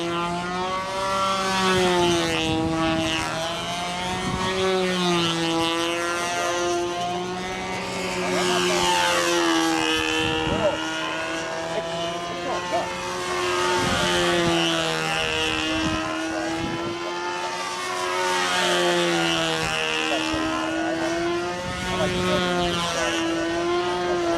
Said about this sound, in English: Noel Drindak on a practice flight here in Palisade Park, September 2006.